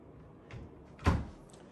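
A hotel room drawer slides faintly, then shuts with a soft but distinct thump at close range in an otherwise quiet room.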